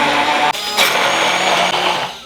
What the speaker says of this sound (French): l'ail comme ça, l'huile d'olive, à hauteur, machine miracle et on mixe